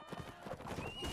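Horse hooves clip-clop in the medieval combat game Mount and Blade Warband, a quick run of moderately loud hoofbeats with a brief whinny-like tone near the end.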